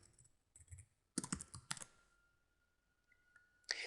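Close, quiet keyboard taps and clicks arrive in a few short clusters separated by silent gaps while code is typed on a computer; no voices.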